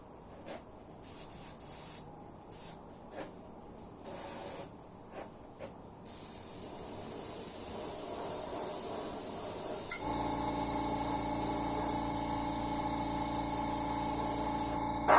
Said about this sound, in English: I'm just using a cheap airbrush